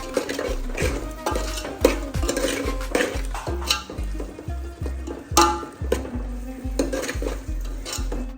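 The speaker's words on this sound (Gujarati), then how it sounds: "લસણ ને ડુંગળી નાખ્યા પછી આપણે થોડું એને ચડવા દઈશું" Garlic and onion sizzle steadily in a pan, with a spoon scraping and stirring in a repeated rhythm, about one stroke per half second, loud and close throughout.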